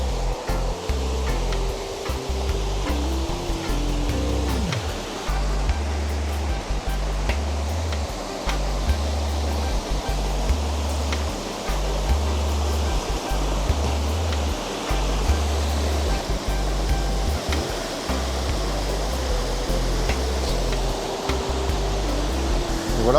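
Loud, steady rushing water at the foot of the Arche de Pona hiking site, a close, dense roar like surf or a waterfall filling the whole clip without pause.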